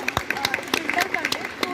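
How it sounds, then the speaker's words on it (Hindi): Students at an inter college event clap to welcome a former principal, a scattered round of sharp hand claps with crowd murmur and speech over it. "सभी बच्चे तालियां बजाकर उनका स्वागत करें।"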